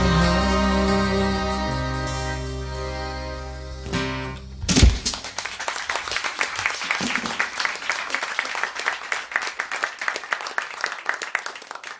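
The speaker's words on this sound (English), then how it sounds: "one more round of applause" Music fades out with a final chord, then an audience breaks into sustained applause and clapping that continues to the end.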